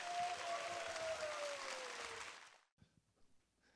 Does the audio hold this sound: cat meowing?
no